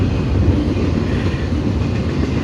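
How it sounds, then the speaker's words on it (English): A long freight train rolls past at close range, a loud continuous rumble with clattering wheel and wagon noise filling the whole stretch. "A freight train"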